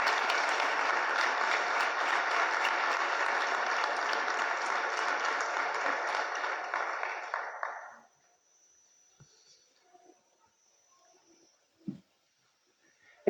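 Church congregation at a sermon breaks into applause, a steady, fairly loud wash of many hands that holds for about eight seconds, then cuts off abruptly, leaving near silence with a few faint knocks.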